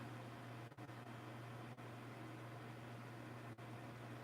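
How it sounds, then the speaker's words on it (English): A kitchen exhaust fan runs over a stove where chicken wontons are frying, a constant low hum with steady airy whoosh, close and even, broken by a few faint clicks, with no talk. "Also going to turn on the fan, help suck up any oil smell"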